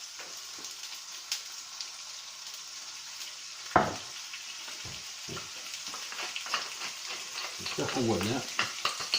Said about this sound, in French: Une fois que le beurre a arrêté de chanter, on le met dedans.